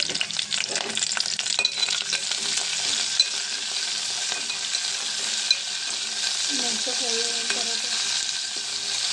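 Dried red chillies, garlic, cumin, mustard seeds and curry leaves sizzle hard in hot oil for a tempering, with a constant bright crackle and scattered pops. A few light clinks from stirring come through near the end.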